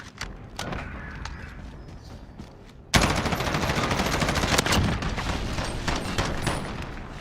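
Gunfire from a competitive team shooter video game match with a bomb plant, a quieter stretch of shots followed by a sudden loud, dense burst of rapid gunfire that continues steadily to the end.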